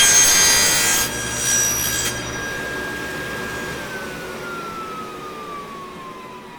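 A saw cuts through wood in a finger joint jig, a loud buzzing cut for about two seconds that then fades into the motor spinning down with a falling whine.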